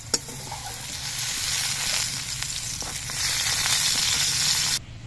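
Brinjal pieces sizzle steadily in hot oil in a kadai, a loud continuous crackling hiss that cuts off abruptly near the end.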